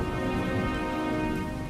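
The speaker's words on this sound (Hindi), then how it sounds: "तभी बारिश शुरू हो जाती है।" Rain falls on a farm field, a steady, dense patter of drops spread evenly across the brief span with no voices over it.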